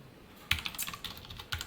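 Quick bursts of keystrokes on a computer keyboard, several clustered taps after a brief pause, close and clear with no talk.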